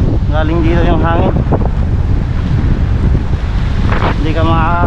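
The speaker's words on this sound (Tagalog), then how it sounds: "Kasi malakas na yung hangin." Strong wind over the sea on a fishing boat, loud constant roar and microphone buffeting with waves beneath, while someone talks at the start and again near the end.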